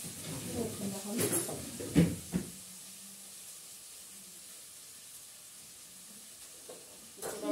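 Meat sizzles steadily in a pan on a home stove, a faint continuous hiss beneath occasional clatter and stirring knocks, with a few louder bumps near the start and end.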